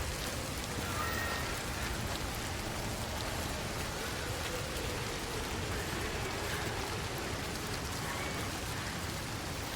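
Steady, dense rainfall in a video game fills the whole stretch as an even wash of patter, with no clear drops or thunder standing out.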